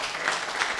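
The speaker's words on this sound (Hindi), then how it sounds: "मैं चाहता हूं कि आपकी तालियां संतोष सिंह को सुने।" An audience at a Hindi poetry event claps in a brief, dense burst of applause, fairly faint and steady.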